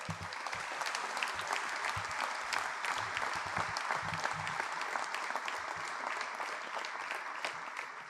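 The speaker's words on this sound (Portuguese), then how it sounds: "Para eles, o vosso aplauso." At a Braga political coalition presentation, a large audience breaks into sustained applause, a dense, even roar of clapping heard at moderate distance and lasting throughout.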